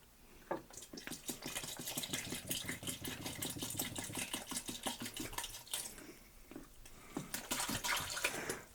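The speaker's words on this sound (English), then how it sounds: "we don't really need to pour in the full gallon of water" Water poured into a one-gallon container for making pineapple mead, a continuous splashing, gurgling stream that runs several seconds with a brief dip before resuming, fairly quiet and close.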